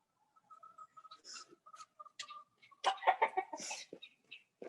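Chickens cluck in short, irregular bursts, some near and some farther off, growing busier and louder toward the end against a quiet background.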